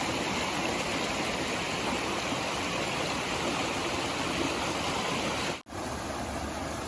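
A creek along the Appalachian Trail rushes steadily and loudly nearby, a dense, unbroken wash of flowing water with no voices, interrupted only by a brief dropout near the end.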